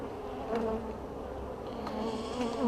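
Honey bees buzz steadily at an open hive during a swarm check, a close, dense droning hum with individual bees swelling louder as they pass, no talk.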